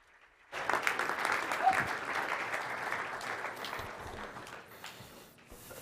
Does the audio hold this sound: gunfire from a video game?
no